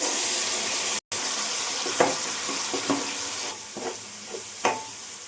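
Onion paste fries in oil with a steady sizzle in a pan while a spoon stirs with a few soft clinks and scrapes; nobody speaks.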